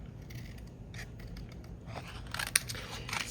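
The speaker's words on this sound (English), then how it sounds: "you want to miter the top 2 corners and cut out the bottom 2 squares" Scissors snipping fabric pocket corners and squares while making a cassette tape album, a faint series of short crisp cuts over a low background rumble, with a brief louder snip near the end.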